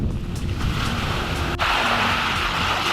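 Ocean surf rolls onto a black sand beach on Vieques, Puerto Rico: loud, steady broadband wash of waves mixed with wind buffeting the microphone, with no voices.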